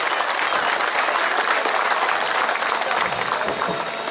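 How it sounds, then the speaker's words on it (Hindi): Dense, sustained applause from a crowd at a political party workers' gathering, steady and loud throughout with no pauses. "जोरदार ताली हो जाइए"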